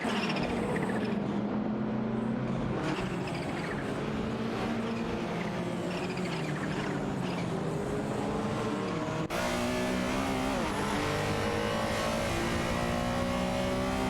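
Porsche race cars, a 944 Turbo and a 968 Turbo RS, accelerate hard in Assetto Corsa Competizione, their engine notes rising and falling in continuous loud revving with brief tire noise, no voices.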